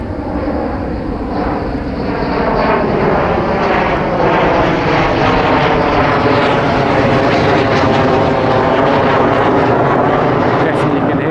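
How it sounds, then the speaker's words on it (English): A propeller aircraft passes overhead near a beach on St John's Island, Singapore, its loud steady engine drone filling the whole stretch with a broad continuous roar. "Being treated to some flyovers."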